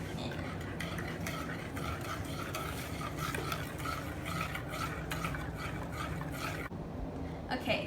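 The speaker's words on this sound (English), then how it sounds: "We're going to whisk that all in." A whisk stirring baking soda and ground cinnamon into cupcake batter in a bowl, with rapid, continuous scraping and tapping strokes at close range and a faint voice underneath.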